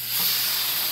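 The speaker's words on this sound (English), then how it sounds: "I'm gonna rinse the bowl out" Tap water runs steadily as a bowl is rinsed out, a loud, continuous hiss lasting under a second.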